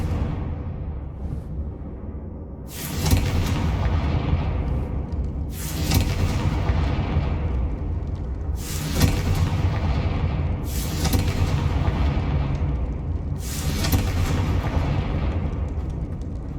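Confringo spell blasts in the video game Hogwarts Legacy: five heavy, booming explosions a few seconds apart, each a loud broadband burst that rumbles and fades over a steady low background.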